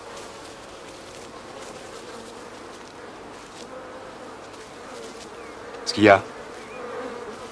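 Agitated hornets swarm around their nest in a continuous, loud, close buzzing drone. A short spoken voice cuts in near the end.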